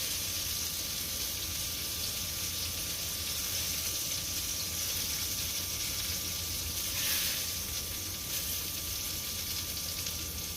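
Breaded pork chops frying in a pan of hot oil give off a steady, even sizzle that holds throughout, with a brief louder flare partway through.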